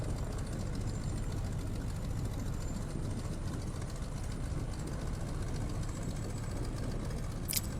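A DC Designs Stearman biplane in Microsoft Flight Simulator idles while it taxis, giving a steady low rumbling drone that stays constant and close throughout, with faint broadband noise and no speech.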